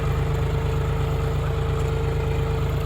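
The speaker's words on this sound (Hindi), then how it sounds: "देखो भाइयों, बिल्कुल प्यार के साथ में ट्रैक्टर चल रहा है सिलों में बिल्कुल।" A tractor engine runs steadily in a sugarcane field, a loud, close, continuous low rumble with a regular pulsing beat and no voices.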